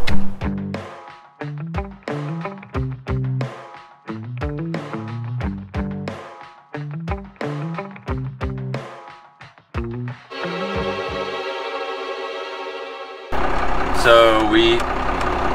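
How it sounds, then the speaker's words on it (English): The engine of a 1932 Studebaker car putters along in a steady chugging rhythm as the car pulls itself forward. A sustained tone and then a burst of louder noise follow, and a voice speaks briefly. "this motor's got enough torque to pull itself along"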